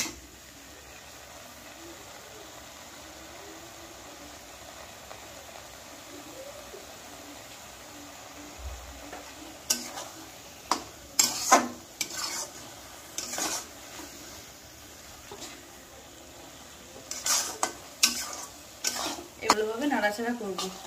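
Spices with turmeric and cumin being stirred in a pan: quiet at first, then a spoon scrapes and clinks against the metal in irregular bursts.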